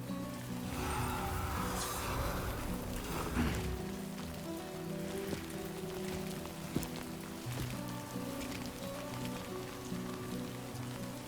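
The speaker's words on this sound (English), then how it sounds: "Started raining" Steady rain falls in the video game Death Stranding 2, a continuous soft patter that runs throughout beneath sustained tonal game music.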